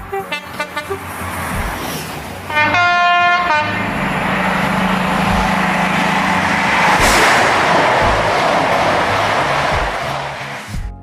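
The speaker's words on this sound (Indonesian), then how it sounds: "Inilah The British Rail Class 43 High Speed Train." A British Rail Class 43 High Speed Train diesel locomotive: rhythmic wheel clatter, then a loud two-tone horn blast, followed by a heavy sustained roar as the train rushes close past.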